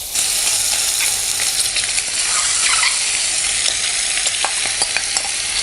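Eggs fry in hot oil in a pan for egg curry, making a loud, dense crackling sizzle that runs throughout with small pops.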